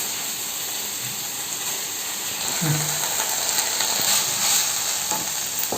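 Cooked rice is stirred into a coriander masala in a hot pan, giving a continuous bright sizzle and hiss with occasional scraping stir sounds, close and steady.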